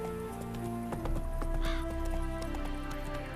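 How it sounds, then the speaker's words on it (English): A horse whinnies in a brief, shrill neigh in The Witcher 3: Wild Hunt, over steady hoof clops and a low ambient hum. "Spooking my horse."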